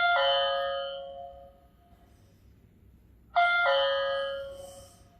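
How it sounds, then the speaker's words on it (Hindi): A two-tone electronic doorbell chime from a smart door lock rings twice, clear and fairly close, with quiet pauses between the rings. "आपके घर पे कोई गेस्ट आए हैं एंड वो डोरबेल को प्रेस करते हैं"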